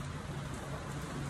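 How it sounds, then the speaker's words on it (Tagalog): Steady rain falls on the Ginza shopping street in Atami, Japan, early in the morning, making a continuous, even patter with no voices. "Umuulan."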